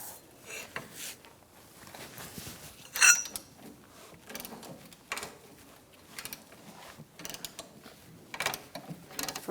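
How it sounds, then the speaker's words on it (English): Ratchet with a 14mm socket loosening tight rear brake bracket bolts on a 2004-2009 Mazda 3, giving quiet, scattered clicks and short mechanical bursts with no talk. "Using a 14mm socket, we're going to take out these bolts for the bracket."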